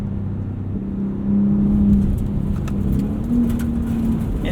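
A 2021 Ford F-150 Raptor with the 37 Performance Package and Baja exhaust rumbles with a low, steady engine drone on a dirt road, swelling slightly partway through, heard from inside without talk.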